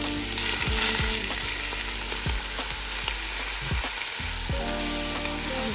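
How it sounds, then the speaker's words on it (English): Onion, ginger and chicken fry in a pan while being stirred, giving a steady close sizzle broken by repeated scrapes and knocks of the utensil. "I'm just mixing everything until the onion becomes translucent, and I'm gonna put in my chicken"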